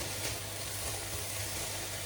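Vegetables sizzle in a hot stir-fry pan for a chow mein style dish, a steady, close, crackling hiss that holds evenly throughout with no talking.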